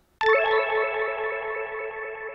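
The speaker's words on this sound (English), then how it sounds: "Little octave reverb thing there." A single synth note from a Moog Mavis strikes and rings out, layered with an octave and washed in lush reverb and chorus, sustaining steadily.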